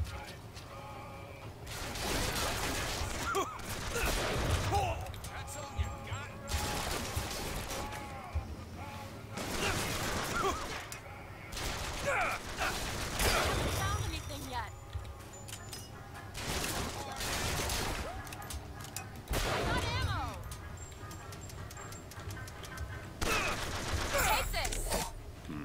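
Gunfire rattles in the video game Bioshock Infinite, repeated loud bursts and volleys of shots spread over the whole stretch with brief gaps between them, and some voices mixed in.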